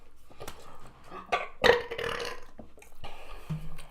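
A person burps during a mukbang meal, a few short throaty bursts with one loud, fuller burp in the middle, close to the microphone and otherwise quiet.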